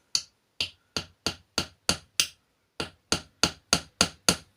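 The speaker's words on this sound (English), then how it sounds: "I have my trusty little hammer here." A small hammer taps a pin into wood in a quick run of sharp, close strikes, seven blows, a brief pause, then six more, each ringing bright and decaying fast.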